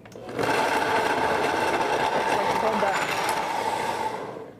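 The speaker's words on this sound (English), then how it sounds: "So power, just blend." A kitchen blender whirs steadily for a few seconds, a loud, even motor whine as it purees ingredients into a fine, soup-like mixture, then winds down.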